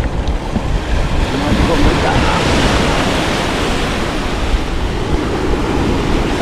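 Ocean waves surge and wash continuously close by, a loud, broad roar of surf with wind buffeting the microphone throughout.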